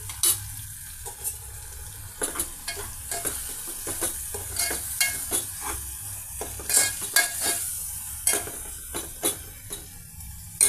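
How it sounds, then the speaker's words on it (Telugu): Tomato paste with cocoa powder and red chili powder frying in a pan, a soft sizzle broken by frequent sharp scrapes and taps of a spoon against the pan, close and fairly quiet, no talking. "అలాగే ఒక 2 నిమిషాల పాటు ఫ్రై అవనిద్దామండి"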